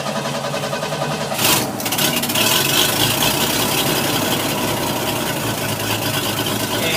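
A snowmobile engine cranks and catches with the choke applied, then settles into a steady, loud idle close by with no talking over it.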